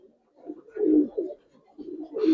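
Giribaz pigeons cooing up close in short, throaty bursts, several rolling coos separated by brief pauses, loud and alone.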